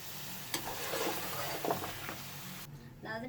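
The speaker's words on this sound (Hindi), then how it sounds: "अच्छी तरीके से इसको मिक्स करके 5 मिनट तक मसाले को भूनना है" Masala spices roasting in a pan for homemade beef nihari, a steady close sizzle with scraping stir strokes through the middle, then a sudden drop to a quieter, muffled tail.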